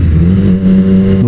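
A Triumph Street Triple RS motorcycle engine accelerates up close, with a loud, steady, rising drone that climbs in pitch near the end, heard alone without talk.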